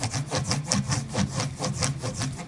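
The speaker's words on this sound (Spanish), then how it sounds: "Lo único que se necesita hacer es ponerse una lija en el dedo y hacer esto." Fingertip wrapped in sandpaper rubbing back and forth over the finish of an Epiphone Les Paul Slash guitar body, a steady rhythmic scratchy rasp with regular strokes, close and moderately loud, no talking.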